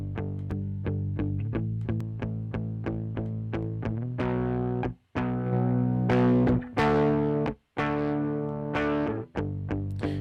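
Distorted, buzzy tones repeat in a steady rhythm and then sustain, their edge slightly softened by EQ cutting the high frequencies, with a couple of brief dropouts near the end.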